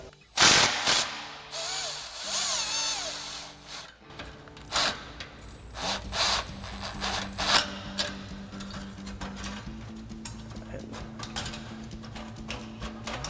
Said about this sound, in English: grab our 13mm socket on our impact, loosen up this clamp, get it out of the way.